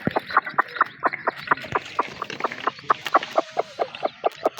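A desi hen clucks rhythmically and repeatedly, calling her young chicks to millet grains, with quick evenly spaced clucks over faint peeping.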